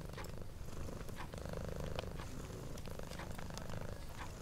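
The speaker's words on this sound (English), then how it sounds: "the sound of your purring companion" A cat purrs steadily and close up in a cozy Hogwarts-inspired ambience, a continuous low rumbling purr with soft crackles over a quiet background.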